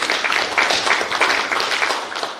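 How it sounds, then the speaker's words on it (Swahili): Audience applause at a meeting of local agricultural investors: steady, dense clapping from a crowd, sustained at an even level for the whole stretch with no voices over it. "Hongereni sana, tuwapigiane makofi."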